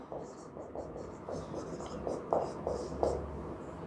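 Pen or chalk writing on paper or a board during a Hindi-language geometry lesson on right-triangle area, a series of short scratchy strokes in a steady rhythm, close and moderately quiet over a faint background hiss.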